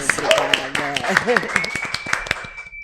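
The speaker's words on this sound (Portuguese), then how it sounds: "doutora Natália Viana, uma salva de palmas." Scattered hand claps ring out near by from a podcast audience while voices talk and cheer over them, the clapping thinning out toward the end.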